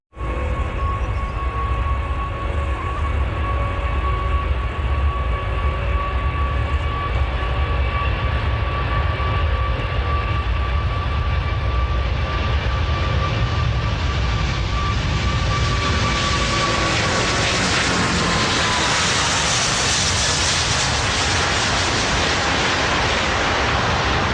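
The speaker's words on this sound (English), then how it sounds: "Have a look at this clip in which the pilot attempts to get airborne before his rotation speed, thereby causing his tail to hit the ground." Airliner engines roar throughout a takeoff in which the jet rotates before rotation speed and its tail strikes the runway; the loud, steady jet noise swells and brightens in its final seconds.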